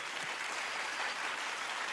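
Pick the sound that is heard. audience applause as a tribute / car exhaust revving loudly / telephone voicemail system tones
audience applause as a tribute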